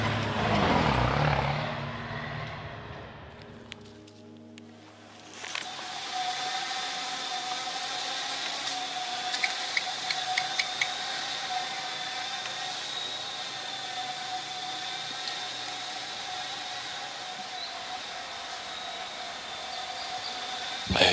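Drones and artillery at a war front line in a forest: a steady high-pitched drone whine hums overhead. After a loud opening burst, scattered distant thuds and crackles sit under the persistent buzzing.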